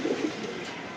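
Thar pigeons in a pet loft coo in a low, soft burble, with one brief rounded call near the start over a steady hiss of room noise.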